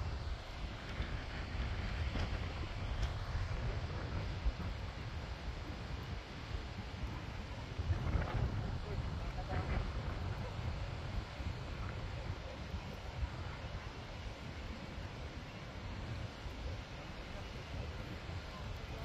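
Steady wind buffets the microphone on the Golden Skybridge, a high suspension walkway, as a constant low roar and rumble throughout, with faint voices in the background.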